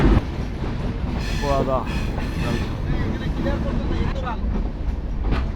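The Intercity Sagardari Express passenger train rolls on rails in Bangladesh, a heavy continuous low rumble of wheels and carriage with faint rail squeals, heard from on board while a person speaks briefly.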